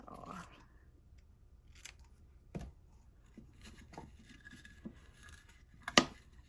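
Scissors cut craft material for a snowman wall hanger in a quiet room: several separate, crisp snips spaced a second or two apart, close and fairly faint, with light handling rustle between them.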